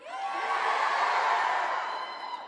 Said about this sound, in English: everyone just cheers all the time